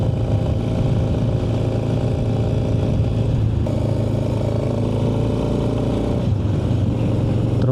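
Yamaha Ténéré 1988 motorcycle on a dirt road, its engine droning loud and close throughout, revving as it accelerates, with a brief dip around a gear change and rattling clatter over the steady roar.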